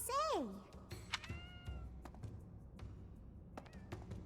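Cats meowing in the video game Fire Emblem: Three Houses, a sharp rising-falling meow at the start followed by softer meows, clicks and taps, with speech also present.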